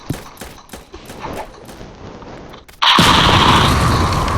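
A grenade goes off in a violent video game: a loud, sustained blast bursts in suddenly after a series of quieter clicks and thuds, then fills the rest of the moment.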